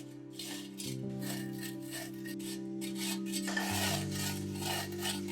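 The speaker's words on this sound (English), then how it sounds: "As the team rotates it by hand, the steel edge scrapes against the clay, forcing the rough earth into a perfect circle." A steel edge scrapes steadily against clay as a large bell mold for a temple bell is turned by hand, a continuous rasping rub with a sustained low hum beneath it, no voices.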